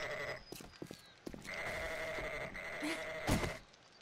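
Sheep bleat in a survival video game: a couple of drawn-out bleats, one short near the start and a longer one in the middle, with soft clicks and thumps between, moderately close with no talking.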